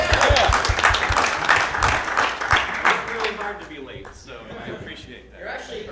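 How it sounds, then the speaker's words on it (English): Audience applause for a speaker at an email marketing summit, brisk clapping from a crowd that starts loud and tapers off after a few seconds, with voices talking over it. "let's give him a round of applause"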